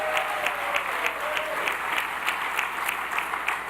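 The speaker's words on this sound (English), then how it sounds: "How about a shout-out, round of applause for Gregory Lee?" Audience applause for Gregory Lee, president of the NABJ, at an evening journalism awards event in New Orleans: steady, dense clapping from a large crowd, continuous throughout.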